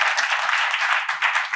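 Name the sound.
audience applause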